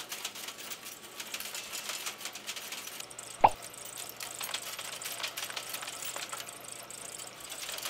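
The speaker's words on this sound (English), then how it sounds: "Linotype operator Daniel Williams sets type at the machine's 90-character keyboard." A Linotype typesetting machine is worked at its 90-character keyboard, releasing type matrices. A light mechanical clatter runs throughout, with one sharp, loud click near the middle.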